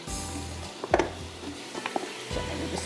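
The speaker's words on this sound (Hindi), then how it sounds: "अच्छी तरह से भूनना है, खूब अच्छी तरह से इसकी आपने बुनाई करनी है" Mutton frying in butter with spices in a pan for makhni mutton, giving a steady close sizzle with occasional stirring scrapes and clinks throughout.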